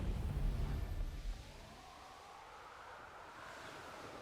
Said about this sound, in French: Il y a une cascade déjà.